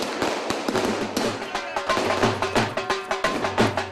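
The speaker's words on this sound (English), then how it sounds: "How much money have you spent on the fireworks?" Fireworks and firecrackers at a Delhi celebration, a steady run of sharp crackling bursts and pops, some near and loud, with faint voices mixed in.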